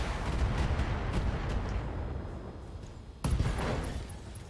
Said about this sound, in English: We do want a full salvo on him.